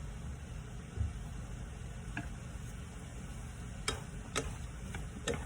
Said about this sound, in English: Get that sauteed.